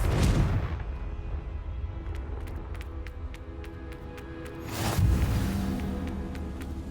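Two booming fire-spell explosions go off in Hogwarts Legacy, each a heavy whoosh and rumble trailing into a roaring tail, with sharp clicks scattered between them.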